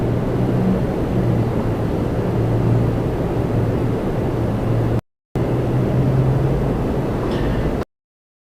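Qatar Airways Airbus A350-1000 jet arriving at Toronto Pearson, a steady broad roar of engine noise holding throughout with no talk, cut by two brief gaps of silence.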